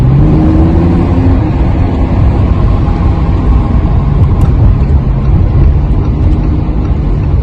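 Lamborghini Huracán LP610-4 V10 accelerating hard from inside the car, a loud, dense engine roar that holds steady for several seconds with no talk over it.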